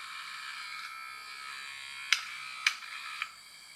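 A toy motor gearbox from a physics workshop kit whirs with a thin high buzz, its worm gear failing to mesh properly, giving three sharp clicks or skips near the end.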